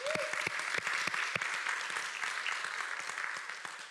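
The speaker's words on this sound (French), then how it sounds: "on peut les applaudir?" A church congregation applauds children and their monitors, a steady mid-distance clapping that fades slightly toward the end, with a brief voice at the start.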